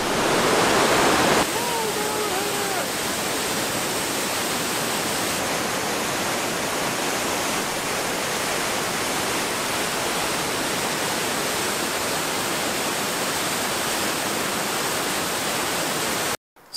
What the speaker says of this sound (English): A Swedish waterfall.